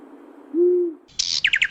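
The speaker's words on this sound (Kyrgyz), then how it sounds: "Бул үкү түндө аябай жакшы көрөт." An owl gives one steady, loud hoot up close, followed by a quick series of higher chirping calls from a bird, with no voices.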